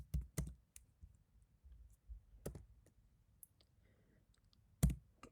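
Python code being typed on a computer keyboard, scattered single clicks and short bursts of keystrokes, close and quiet with pauses between.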